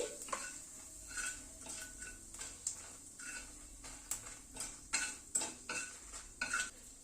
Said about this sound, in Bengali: ফোড়নটাকে একটু ক্র্যাক করিয়ে নিচ্ছি।